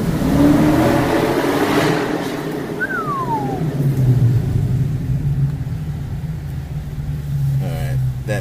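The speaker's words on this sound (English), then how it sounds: "It's compressing the track mode engine notes of my car" A Dodge Charger Daytona 392 in track mode rumbles and revs inside an enclosed space, a loud, booming low engine drone swelling and easing under continuous nearby talk.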